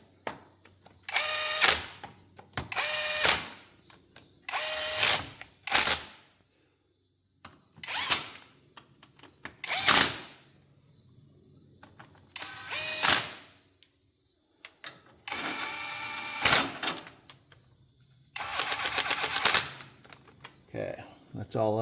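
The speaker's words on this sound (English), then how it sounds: "I'll go over these with this electric impact. I'm just going to barely tap them into place." A cordless electric impact wrench briefly tightens bolts on a John Deere 425/445/455 rear PTO, firing in about ten short rattling bursts of a second or so each, separated by quiet pauses.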